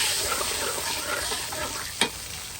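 Garlic and fermented soybean paste sizzle in a hot pan while being stirred, a loud steady frying hiss with scraping movement and one sharp clack of the utensil near the end.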